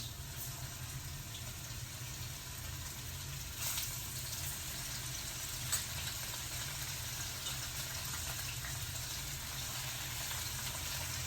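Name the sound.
salmon frying in garlic oil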